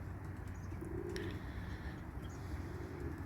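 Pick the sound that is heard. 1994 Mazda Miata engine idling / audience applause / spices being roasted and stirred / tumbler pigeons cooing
tumbler pigeons cooing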